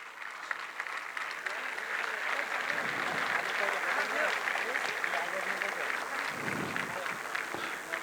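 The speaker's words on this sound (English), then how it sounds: "We would like to have a roar of applause" Sustained applause from a crowd at a Gujarati community anniversary cultural program in Muscat, dense steady clapping continuing throughout without a break.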